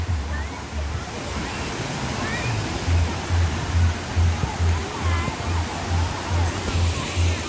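A loud, steady roar of rushing water from Situbo Falls fills the scene, constant and close, with voices talking faintly underneath.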